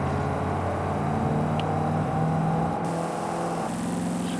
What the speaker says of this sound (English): Sounds like a very big heavy van with a very big engine in it.